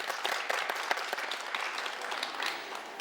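Applause from a concert audience, a dense crowd clapping steadily and fairly close for a few seconds before easing slightly at the end.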